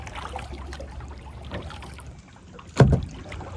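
A kayak paddle stirs water with soft, quiet swishes and gentle lapping, followed by one louder splashing stroke near the end under light wind noise.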